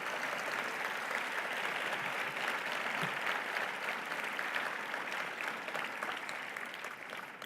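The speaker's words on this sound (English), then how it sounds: "Can we have one more round of applause for all of our honorees today?" Sustained applause from a seated audience honoring service award recipients at a luncheon, steady and dense throughout with no speech over it, fading slightly toward the end.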